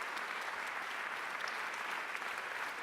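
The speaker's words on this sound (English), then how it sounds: "Round of applause." A conference audience claps in a steady, even round of applause at moderate volume, sustained throughout with no voices over it.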